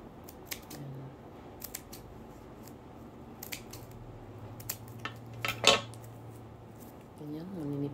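Scissors snip through scrap material for a recycled craft project, giving a string of sharp, close cuts at an irregular pace, with one louder snip near the middle and a soft steady hum underneath.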